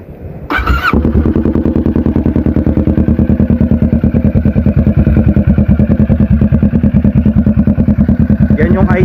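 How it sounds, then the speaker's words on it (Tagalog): A Kawasaki Ninja 650 parallel-twin motorcycle engine catches after a brief starter burst, then settles into a loud, close, steady idle with an even rhythmic thrum. "Yan yung idle nya, idle ng Ninja 650 with parallel twin."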